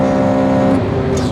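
A used Audi A8 3.2 FSI Quattro driving at speed, a steady loud engine hum with tonal drone and road noise throughout, no pauses.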